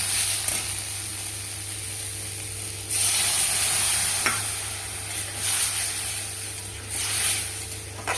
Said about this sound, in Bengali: কষানো মশলাটাকে জল দিই